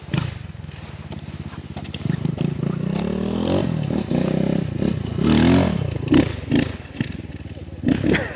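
An X Pro Templar 250 motorcycle rides along with its engine droning and rising in pitch, while a hard chain guide clatters and thumps irregularly over the road noise.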